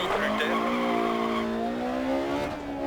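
A rally car slides on gravel in Dirt Rally, a Germany stage: a loud, close engine whine with continuous tyre scrub and skid noise that rises slightly, then eases off.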